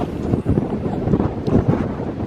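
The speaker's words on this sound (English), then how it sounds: "Windy, cold, grey skies" Cold wind buffets the microphone on a countryside ramble near Abbeystead, a loud rumbling roar with gusty surges and no voices.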